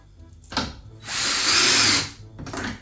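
A cordless power drill drives a front screw into an Electrolux PerfectCare 800 heat-pump tumble dryer during reassembly after a drum roller replacement, with a loud whirring burst of about a second, framed by short clicks and brief motor bursts.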